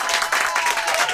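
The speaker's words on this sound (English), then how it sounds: "Control round of applause, please, for A Fish Called Wanda." A studio audience gives a brief, dense round of applause, close and steady clapping that fills the whole short moment.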